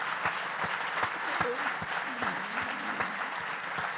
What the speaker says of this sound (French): si vous pouvez leur faire un tonnerre d'applaudissements